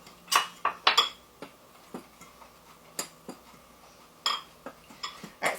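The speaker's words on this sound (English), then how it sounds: "Just mix that in with a fork." A fork scrapes and clinks against a mixing bowl as Bisquick baking mix is stirred into flour, giving a run of sharp, irregular taps and scrapes, close and moderately loud, with no talking.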